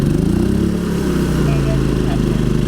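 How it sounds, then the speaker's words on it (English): A Champion 3500 dual fuel inverter generator runs steadily with a loud, droning hum while powering an air conditioner. The engine tone shifts and settles under load as the AC compressor kicks on. "Now we'll wait for that compressor to kick on."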